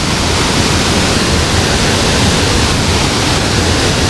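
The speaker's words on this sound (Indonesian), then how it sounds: "Itu dia aliran air terjunnya, keren banget. Air terjun Hiu Pitu." The Hiu Pitu waterfall pours in a loud, unbroken broadband rush of falling water, steady from start to finish with no voices.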